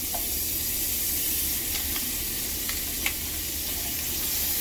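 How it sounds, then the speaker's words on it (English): Margarine sizzles steadily in a hot frying pan, a loud, dense, continuous hiss with a few faint scraping ticks as it is spread around. "Put a little more margarine in the pan."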